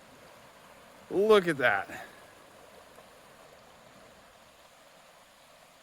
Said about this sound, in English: you can see it's dry down there, and the flood is here